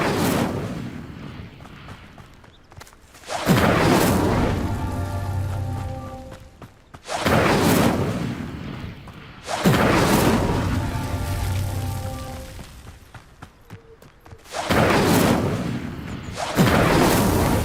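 Fire spell cast in Hogwarts Legacy, heard as repeated loud whooshing, crackling bursts of flame with booming low rumble, four or five blasts separated by short quiet gaps, no voices.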